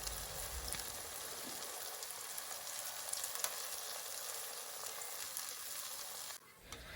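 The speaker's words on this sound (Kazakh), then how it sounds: "қызып тұрған майға осылай бауырсақ секілді 2 жағынан жақсылап золотистый, яғни алтын түстес болғанша жақсылап 2 жағынан қуырып аламыз" Potato fries crackle and sizzle steadily in hot oil, frying on both sides until golden, a dense close hiss that runs continuously before dropping off sharply near the end.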